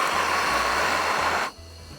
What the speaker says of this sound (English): Let's see if we can heat them up with a torch.